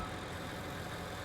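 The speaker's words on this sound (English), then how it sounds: "This should be canola with my new tractor." A new tractor running in Farming Simulator 19 while harvesting canola, a steady low engine drone held at an even level throughout, nearby and without speech.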